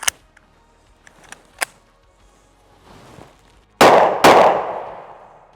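A Luger P08 pistol fires 9mm Luger rounds outdoors: after a few small metallic clicks and handling noises, two loud sharp shots ring out close together, each followed by a booming decay.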